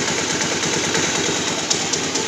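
A rough, uneven idle from a poorly maintained motorcycle engine chugs steadily with a rattling, irregular pulse, close and fairly loud, with no voices.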